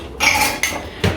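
Clean dishes clinking and clattering as a dishwasher is unloaded in a home kitchen, with two or three close bursts of bright rattling cutlery and crockery, fairly loud with no talking.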